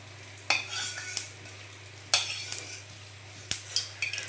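Chicken sizzles in hot oil in a home kitchen, with a steady background crackle broken by three sharp bursts of spattering and clatter from stirring.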